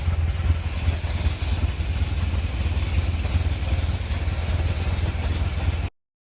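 A Chevrolet Corvette C6 Z06, said to have an evap issue, rumbles with a steady, deep engine note as it pulls off for a state inspection drive; the sound stays close and constant with no talk, then cuts off abruptly.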